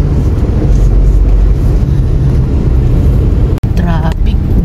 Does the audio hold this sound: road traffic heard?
yes